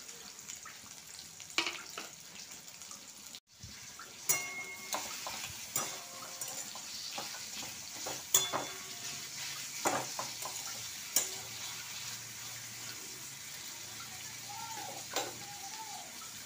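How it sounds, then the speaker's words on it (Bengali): A large chopped onion frying in a kadai for egg curry, a steady soft sizzle with repeated scraping stirs throughout, some knocks of the spatula against the pan. "পেঁয়াজটা লাল করে ভাজা হয়ে গেছে"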